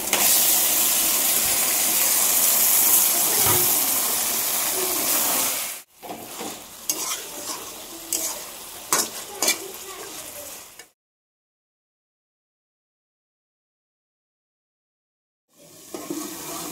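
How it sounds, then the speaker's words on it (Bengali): Goat meat dropped into a spice paste sizzles loudly and steadily in a pan for a Bengali potato curry, then gives way to quieter frying with scraping stirs, a stretch of silence, and a return of the sizzle. "মাংসটা দিয়ে দিব।"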